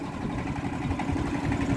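A boat engine runs with a steady, close throbbing drone that holds at an even level from start to finish.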